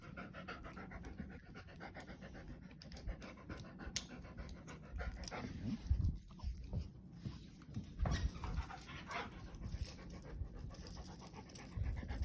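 A Siberian husky pants rapidly and steadily at close range, with a few faint whimpers mixed in and no talking.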